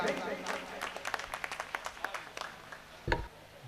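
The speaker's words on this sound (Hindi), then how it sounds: "तो तालियां आपकी बजाना जिम्मेदारी है, मेरी नहीं।" Audience at a patriotic Hindi poetry recital claps for the poet Maruti Nandan, a scattered burst of claps at moderate distance that thins out, ending in a louder single thump.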